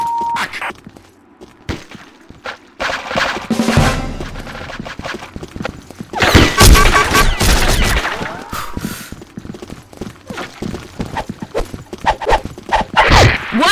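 Rapid minigun fire and other gunfire in a Combat Arms melee-only match, loud bursts with sharp transients spread through the clip, mixed with game effects and voices talking.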